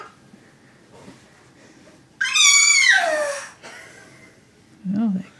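A cat lets out a loud, drawn-out meow mid-clip, followed by a shorter, fainter meow near the end, over a quiet indoor background.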